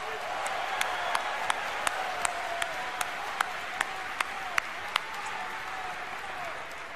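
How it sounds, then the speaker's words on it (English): A large audience at the BlizzCon 2011 opening ceremony claps steadily, a broad even wash of applause with a few sharper individual claps standing out near the front. "Please give yourselves a round of applause."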